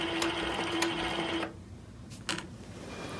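A longarm quilting machine stitches steadily to tie off thread, a tonal motor hum with periodic ticks for about a second and a half, then stops, leaving a quieter pause and one brief later burst.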